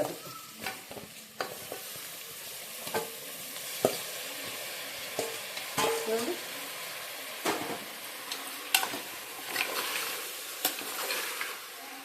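Goat head and leg curry being stirred in a cooker, with spoon scrapes and knocks at irregular intervals over a constant close hiss and sizzle; nobody speaks.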